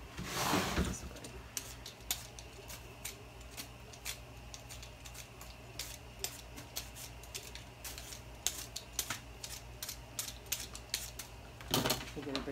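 A knife cuts cucumber for a creamy pasta salad, quiet repeated ticking chops in an irregular rhythm against a soft background hum.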